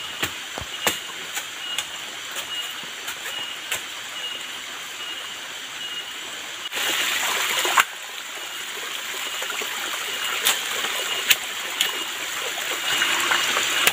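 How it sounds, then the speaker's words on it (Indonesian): Water trickles and splashes steadily from a split bamboo spout at a forest shelter, with scattered sharp ticks and drips, growing louder and fuller after the midpoint. "Untuk pancuran air saya gunakan bambu."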